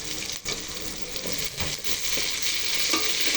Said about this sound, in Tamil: தக்காளி போடுறேன்.